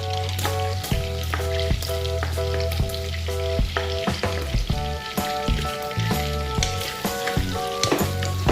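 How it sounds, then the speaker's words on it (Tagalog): Onion fries in melted butter for a seafood butter garlic sauce, with a loud, continuous close-up sizzle and occasional stirring knocks. Background music plays under it. "Pag natunaw na yung butter, isunod na natin itong sibuyas."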